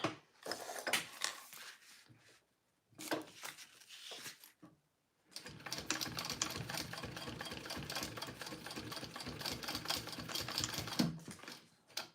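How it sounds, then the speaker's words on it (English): Sewing machine top stitching folded fabric for a round gusset, running in a fast steady mechanical chatter through short bursts and then one long continuous run, close and fairly loud with no voices. "And then I want to fold them and top stitch."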